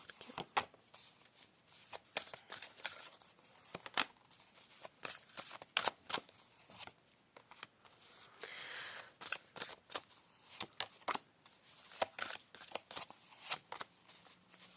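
Playing cards are shuffled and riffled in quick, crisp bursts, repeated irregularly at close range with brief pauses between.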